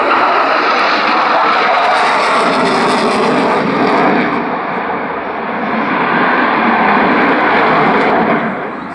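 An F-16 jet fighter flies the downwind leg of its landing pattern at an air show, a loud, steady roar of jet engine noise that swells and eases slightly over nine seconds without pause.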